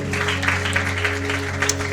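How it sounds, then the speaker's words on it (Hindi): Continuous applause from a church congregation during a Hindi-language worship service, a dense wash of clapping over a steady low electrical hum, moderately loud and sustained. "जोरदार तालियों के साथ परमेश्वर को महिमा दे"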